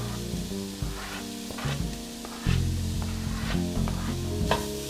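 Onion, pear and apple sizzling in a pan for a stuffed poblano dish, a steady frying hiss with scattered crackles and occasional stirring scrapes, close and moderately loud throughout.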